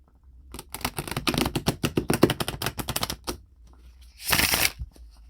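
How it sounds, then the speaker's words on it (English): Tarot cards are shuffled right on top of the deck in a close, quiet room, giving a rapid run of crisp riffling clicks for about three seconds, then a short pause and a brief whooshing riffle. "I wonder if I could just shuffle right on top of the cards."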